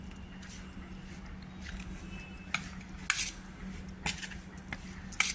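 Spices and salt being mixed into okra in a bowl: scattered clinks and scrapes of a metal spoon against the dish, irregular sharp taps over a quiet background, close and fairly soft.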